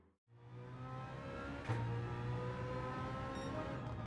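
A BMW M3 GT '11 race car in Gran Turismo 7 accelerates hard from near silence, its engine revving into a loud, sustained high-pitched howl with a shift partway through and no voices.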